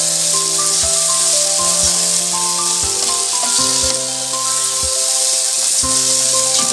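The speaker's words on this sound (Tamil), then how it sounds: "இப்போ வந்து நம்மளோட சிக்கன் இங்கே சேர்த்துக்கலாம். நல்லா மிக்ஸ் பண்ணி விடுங்க." Chicken added to a hot pan of sautéed ingredients for vermicelli biryani and stirred, giving a loud continuous sizzle broken by regular scraping strokes, with no talking.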